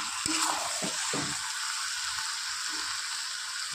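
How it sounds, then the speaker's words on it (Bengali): Capsicum and slit green chillies sauté in a chicken curry pan with a steady hiss of frying, a few stirring clinks and scrapes early on, then a continuous even sizzle. "এবার ক্যাপসিকাম আর কাঁচা লঙ্কা চিরা দিয়ে আবার কিছুক্ষণ একটু কষিয়ে নেব।"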